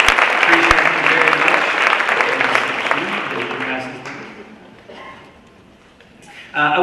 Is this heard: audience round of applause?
yes